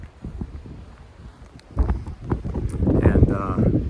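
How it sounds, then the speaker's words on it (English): Wind gusting on an exposed, above-tree-line rocky slope of Mt. Katahdin on the Appalachian Trail, buffeting the microphone with low rumbles that build louder toward the end, mixed with faint speech. "Pretty windy."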